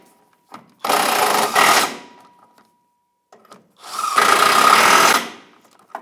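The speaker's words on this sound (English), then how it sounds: "And 19 millimeter socket. I'm just going to snug them up." A tool runs in two bursts of roughly a second each, separated by a pause, while the mount bolts on a 1998-2011 Ford Ranger 3.0L V6 oil pan are snugged down with a 19 millimeter socket.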